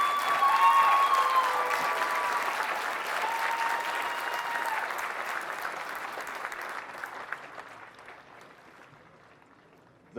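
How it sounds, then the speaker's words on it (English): A large crowd applauds at a Marine recruit graduation ceremony at MCRD San Diego, loud at first with some cheering, then thinning and fading away toward the end. "please join me in a round of applause for the company staff of Company A"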